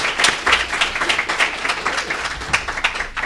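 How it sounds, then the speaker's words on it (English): A morning event audience at a job-training forum applauds its volunteers, a short, loud round of close clapping with individual hand strikes clearly audible over the crowd throughout. "one last round of applause to our volunteers"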